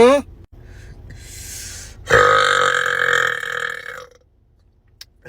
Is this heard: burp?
yes